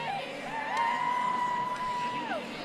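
Spectators cheer and whoop from a distance at an artistic swimming competition, a steady wash of crowd noise with one high sustained yell rising above it.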